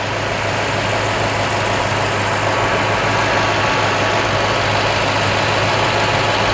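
A Toyota Tundra pickup engine idles roughly while running rich, a loud, steady low rumble with a persistent hum and no voices over it.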